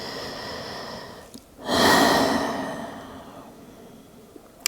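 A slow, audible breath during yoga child's pose, a soft exhale swelling up and fading away over a couple of seconds against quiet room tone, with a small tap at the end.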